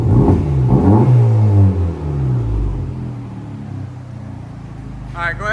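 A 2024 Honda Civic Type R, a 2.0L turbo with an AWE cat-back exhaust, revs hard with a loud rising and falling engine note, then settles to a steady idle rumble. A voice is briefly heard near the end.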